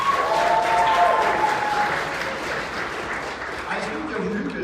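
Audience applause for the J-pop group Ice Cream at the Nadeshicon opening ceremony, sustained crowd clapping that slowly thins out, with a voice talking faintly underneath.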